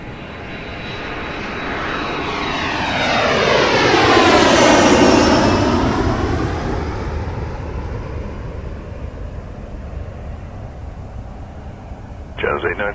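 A Jazz airliner takes off from runway 06 left at Toronto Pearson Airport, its engine roar swelling to a loud peak midway with a sweeping whine, then fading steadily as it climbs away.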